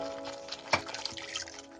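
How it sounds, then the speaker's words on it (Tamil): A quarter tumbler of water splashes into a ground paste already simmering in a pan for a malai broccoli dish, making one brief splash followed by soft bubbling and sizzling, close up and with no voices. "நம்ம இப்போ கால் டம்ளர் தண்ணி இதில் சேர்த்துக்கலாம்"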